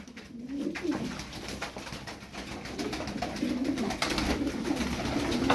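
Several pigeons coo in soft, repeated low warbles, close by, over a faint background hiss that slowly grows.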